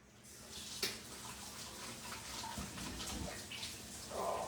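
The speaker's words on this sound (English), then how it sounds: "let me wash my hand" Running tap water splashes steadily over hands being washed in a kitchen sink, a soft continuous wash with a few brief clinks, fairly quiet and close.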